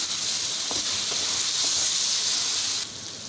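Chicken jalfrezi masala frying in a pan, a loud steady sizzle and hiss up close, with a few faint stirring knocks underneath.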